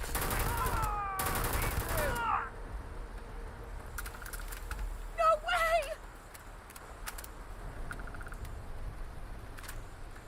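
Gunfire in the video game Starfield: quick, distant bursts of shots crackle over a steady game background, while someone speaks briefly near the start.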